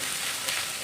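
Potato pieces fry to golden brown in a pan of oil for mutton kosa, giving a brief, steady, soft sizzle with no talk.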